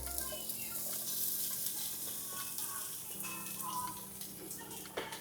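Ginger and garlic frying in oil in a pan as sliced onion goes in, a broad steady sizzle with occasional spatula scrapes and clicks, close and moderately quiet, with no speech.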